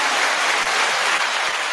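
A crowd applauds a vocal coach at a comedy show, broadband clapping sustained steadily and fairly loud throughout, with no voices standing out.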